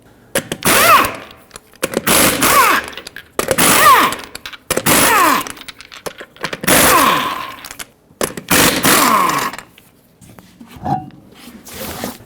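Repeated bursts of a ratchet or impact socket tool spinning out the 13mm brake caliper bolts on a 2015-2020 Ford F-150, several loud buzzing runs with short pauses between them, close by.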